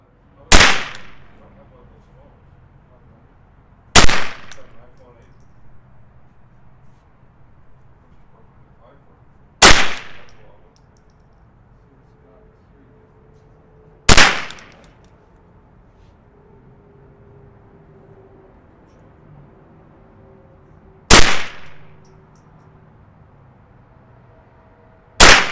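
Six sharp rifle shots ring out one at a time, several seconds apart, while a CVLIFE red dot sight is zeroed at 25 yards. Each report is loud and close and decays quickly into quiet outdoor background.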